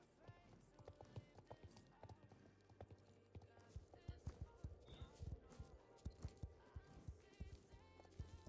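Rhythmic clip-clop of horse hooves walking at a slow, even pace in Star Stable Online, fairly quiet, with faint background game sounds.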